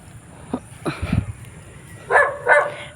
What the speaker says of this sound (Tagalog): may tumatahol na aso